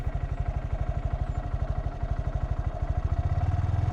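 A Honda Grom ABS motorcycle engine idles with a steady, rapid low thump, close and loud, its pulse quickening and thickening slightly near the end as the throttle is blipped during a false start.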